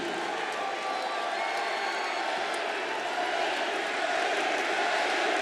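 A wrestling arena crowd roars and cheers steadily throughout, a dense, loud wash of voices with scattered shouts rising near the end.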